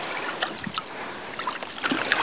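Paddle strokes from a kayak paddled with a Greenland-style paddle, heard as soft, close water dips and light splashes recurring every half second or so over a faint watery background, with no talk.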